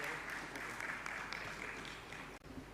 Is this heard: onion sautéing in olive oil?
no